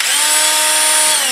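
A power drill fitted with a dimpler bit drives a screw into drywall, a steady high-pitched motor whine held close and loud for its whole length with no talk.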